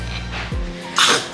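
A single sharp sneeze bursts out close to the microphone near the end, over a low steady hum in a home kitchen during banana baking.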